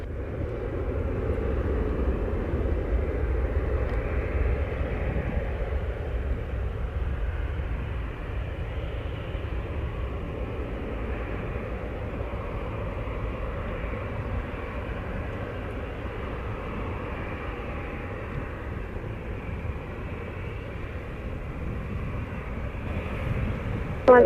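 American airliner landing on runway 07 at Montego Bay, a continuous broad engine and airframe roar holding steady at moderate distance for the whole stretch, with no clear voices.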